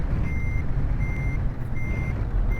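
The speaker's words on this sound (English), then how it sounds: "Right now we're trying to back this oversized load up in the dark." An oversized-load truck in Euro Truck Simulator 2 backs up at night, its reversing alarm sounding three evenly spaced electronic beeps over a low, rumbling diesel idle.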